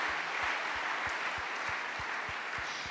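A church congregation applauds in steady, rhythmic unison claps, roughly three per second, filling a large worship space at moderate distance.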